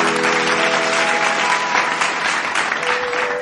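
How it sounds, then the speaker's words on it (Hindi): A stage audience gives loud, sustained applause welcoming a singer, thick and continuous clapping close up, with a faint musical tone held underneath. "जोरदार करताली सहित स्वागत करिबा"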